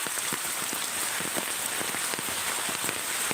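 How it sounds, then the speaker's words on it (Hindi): Heavy rain pours steadily onto surfaces during a flood, with water running past; a dense, continuous hiss with scattered close drops, no speech. "अरे यहाँ बहुत तेज बारिश हो रहा है भाई, देखो कितना पानी चल रहा है"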